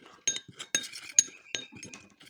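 A spoon stirring turmeric powder with a little coconut oil in a small bowl, repeated bright metallic clinks against the bowl in an uneven rhythm, close and clear.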